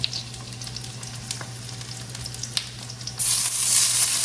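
Stuffed bitter gourd sizzles and fries steadily in a pan over medium heat, a continuous crackle with small pops that swells louder near the end.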